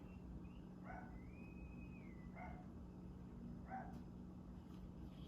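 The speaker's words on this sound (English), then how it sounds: "Dogs are barking." Several dogs bark and yip in short, spaced bursts, played quietly through a Yamaha RX-V385 home theater receiver over a steady background hum.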